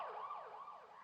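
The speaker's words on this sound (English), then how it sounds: "ambulance sound, like you can hear when it's going past you. It sort of changes the pitch as it goes forwards and backwards." An ambulance siren wails in smooth rising and falling sweeps, its pitch shifting as with a passing vehicle, faint and alone.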